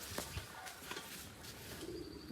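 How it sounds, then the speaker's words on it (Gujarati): Soft pigeon coos sound faintly amid outdoor background noise, a few low murmuring calls spread across the moment. "કબૂતરનો અવાજ આવે સાંભળો"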